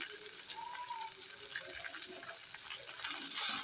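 Water running from a tap while potatoes, onions and tomatoes are washed, a steady close gush with faint splashing, swelling slightly near the end, no talk.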